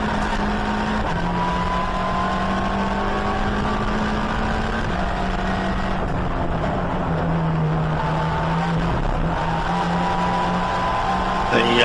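Race cars at Donington circuit, including a Mazda MX-5, Honda Civic and Caterham, drone loudly and continuously nearby, steady engine notes shifting in pitch as they pass, with a commentator's voice over the top.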